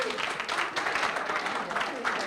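An audience applauds continuously, dense clapping from a crowd at moderate distance, steady with small swells and no voices standing out.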